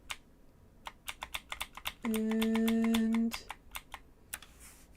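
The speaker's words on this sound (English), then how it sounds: "I know some people like the sounds of a mechanical keyboard while others don't." Mechanical computer keyboard typing in sharp, rapid clicks in bursts, interrupted by a steady sustained tone in the middle, close and fairly loud.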